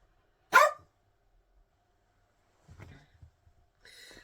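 An excited dog lets out one sharp, close bark, followed after a pause by a few softer snorts and yips in an otherwise quiet room.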